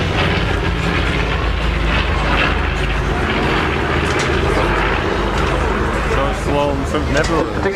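A 1944 North American B-25J bomber, built in Kansas City, fills the Southport Airshow with a loud, sustained engine rumble while a commentator talks over it.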